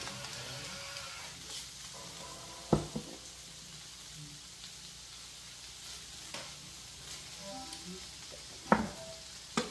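Chicken tortellini sizzles on a small griddle with a steady, soft frying hiss. A few brief scraping clanks from the spatula break in as the food is stirred. No one speaks.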